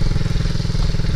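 An MRF 80cc motorcycle engine runs steadily under held throttle, a loud close low buzzing drone with no break.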